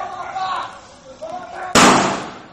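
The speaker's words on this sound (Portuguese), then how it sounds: "o som dos tiros" A single sharp, loud gunshot cracks near the end, following a stretch of indistinct background voices, during a gang clash on a street in Vila Velha.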